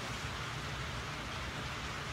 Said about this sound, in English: It's raining good.